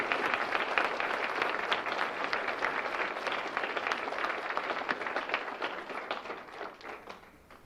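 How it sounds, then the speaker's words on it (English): An audience at a college speech showcase applauds its speakers with steady, moderately distant crowd clapping that continues throughout and tapers slightly at the end. "giving a big round of applause for all of our speakers tonight"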